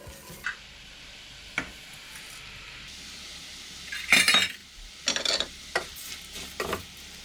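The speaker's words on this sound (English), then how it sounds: "Stir the rice in and cook while stirring frequently for 3 to 4 minutes" Risotto rice being stirred in a pot, with a handful of scrapes and clinks of the spoon against the pot over a quiet low sizzle, no talking.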